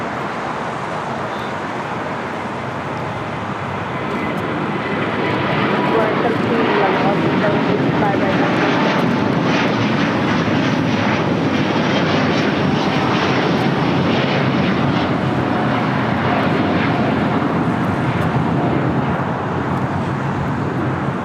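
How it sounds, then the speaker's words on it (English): A Delta Airlines Airbus A330neo takes off at LAX, a broad jet roar that swells after a few seconds and holds loud and steady at a distance, with people talking over it. "This is Delta Airlines Flight 7 taking off to Tokyo Haneda on the A330 Neo."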